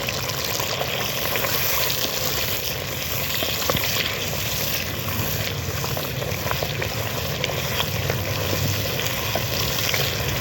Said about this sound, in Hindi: मैं इसमें दही डाल के भूनने लगी हूँ।